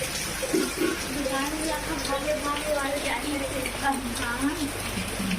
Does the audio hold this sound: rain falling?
yes